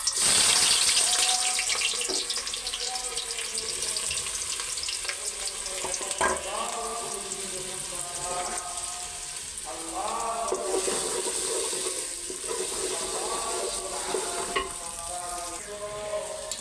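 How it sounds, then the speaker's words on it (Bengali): Onions frying in hot oil until browned for pilau, a steady sizzle with occasional stirring scrapes and bubbling, close and moderately loud throughout. "পেঁয়াজগুলি ভাইজা নেই, বেরেস্তা করে নেই"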